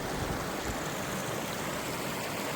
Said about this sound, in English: It's a nice rolling river.